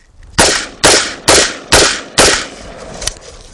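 An M16 rifle fires five sharp, loud shots in steady succession, about half a second apart, during an outdoor mud reliability test, each crack followed by a brief echo tail.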